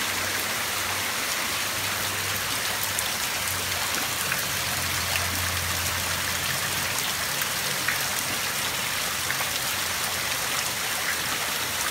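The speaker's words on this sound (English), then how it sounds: "It's been raining like this for the last 5 hours." Heavy rain pouring down steadily in the aftermath of Hurricane Patricia, with water streaming off a canopy and driveway, a dense continuous hiss and splatter that stays constant throughout with no voices.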